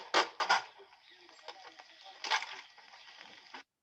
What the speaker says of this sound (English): if you guys heard a little noise in the background, all these little droppings, that's actually ice.